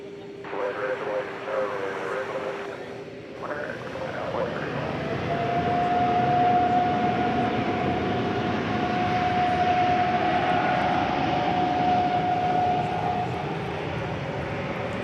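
Qantas Flight 8, a jet airliner taking off from DFW Airport at night for Sydney, gives a steady, loud broadband engine roar that swells and holds, with a long whining tone over it and faint voices early on.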